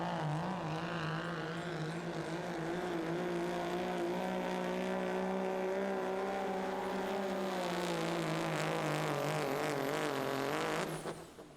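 A pro street diesel truck pulling a sled at a 2019 pulling finals in Terre Haute, Indiana: a loud, sustained engine roar with wavering pitch that holds strong, then cuts off abruptly at the end.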